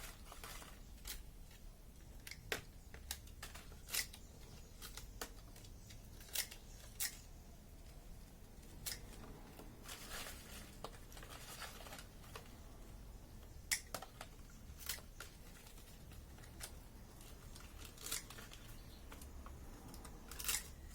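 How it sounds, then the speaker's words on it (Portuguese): Pruning shears snipping guava stem cuttings, each cut into short pieces with two buds and half leaves; sharp, close clicks and snips repeat at an irregular pace over a quiet background. "aqui eu estou utilizando a tesoura de poda mesmo."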